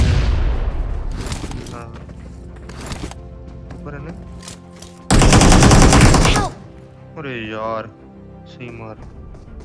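Gunfire from the mobile battle royale game BGMI, with scattered single shots, then a dense loud burst of automatic fire lasting about a second and a half, while someone talks over the game.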